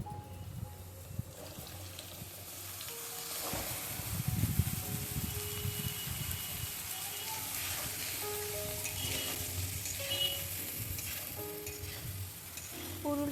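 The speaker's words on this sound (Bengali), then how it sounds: "পুরুলটা দেওয়ার পর ভালোভাবে ভাজতে হবে আরও 5 মিনিটের জন্য" Potatoes and pointed gourd (potol) fry steadily in a pan, a continuous close sizzle with occasional stirring scrapes and faint clinks, no voices.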